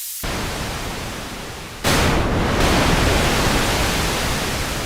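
Loud, steady hiss of filtered noise from a Yamaha CS70M analog synthesizer, jumping brighter and harsher partway through as strong resonance is added, continuing alone without talk.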